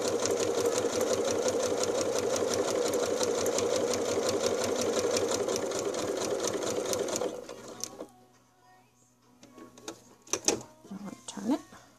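A sewing machine stitches around fabric for a Valentine's pot holder, a loud steady rapid whirr for about seven seconds, then it stops and faint handling noises and brief clatter follow.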